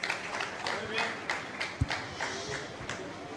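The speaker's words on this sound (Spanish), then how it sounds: "con el aplauso de todos los presentes" Applause rises from the audience at the Premios Lo Nuestro 2021 awards show, a soft but steady crowd patter with a few sharper claps and one thump standing out.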